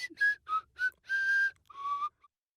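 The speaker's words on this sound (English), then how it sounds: "He begins whistling a lullaby to make the teen fall asleep" A man whistles a slow lullaby in a cartoon, five or six soft sustained melodic notes with brief pauses, close and alone with no talking.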